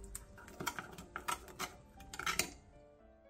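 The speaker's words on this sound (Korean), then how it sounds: "들기름 반스푼, 통깨를 넣고 골고루 섞어 두부구이에 양념장을 만들어주세요" A spoon clinks and scrapes in a small dish while a Korean seasoning sauce is stirred with perilla oil and sesame seeds for pan-fried tofu, quiet close taps in a quick irregular rhythm.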